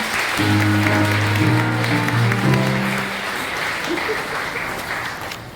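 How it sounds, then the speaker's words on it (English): A graduation audience at JMS gives a sustained round of applause for top subject winners. The clapping is full and steady and fades slightly toward the end, with a held musical tone underneath early on. "One more round of applause, please"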